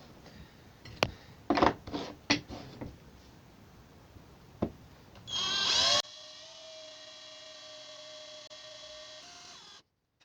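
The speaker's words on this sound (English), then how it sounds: "That's ordinary metal drill bit, and it's went through nice and clean." Several short bursts of an ordinary metal drill bit boring a hole, followed by a high, whining drill spin-up that runs steadily for a few seconds before cutting off.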